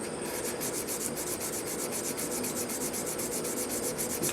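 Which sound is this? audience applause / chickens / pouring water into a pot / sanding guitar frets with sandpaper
sanding guitar frets with sandpaper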